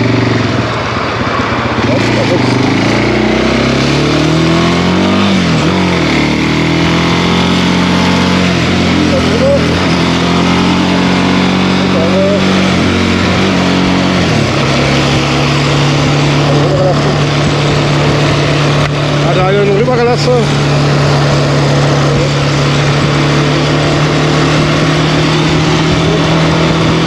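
A Suzuki LTZ 400 sport quad's engine runs loud and close while riding on the way to a festival, rising and falling through several revs and gear changes before settling into a steady drone, with someone talking over it.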